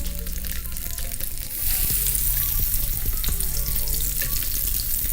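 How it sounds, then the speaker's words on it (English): Southwestern chicken egg rolls fry in a little oil in a pan, a couple at a time, producing a loud steady sizzle that swells as pieces go in, with a few utensil taps and no talk. "It's time to give them a quick little fry on each side. So we added just a little bit of oil. I'm going to place a couple in the pan at a time."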